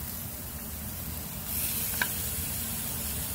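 Onions frying with ginger-garlic paste give a steady, moderate sizzle that swells a little partway through, with a faint clink of a spoon, close and without voices.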